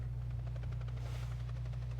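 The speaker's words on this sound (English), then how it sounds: "Helicopter." Helicopter in the Cowboy Bebop video game: a steady low rotor drone with rapid rhythmic chopping that stays loud and continuous throughout, with no talk over it.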